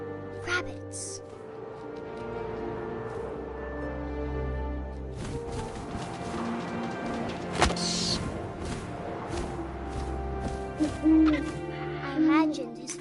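Owl hoots in the video game What Remains of Edith Finch, set against a continuous droning ambient bed with a few brief louder accents, with no talking.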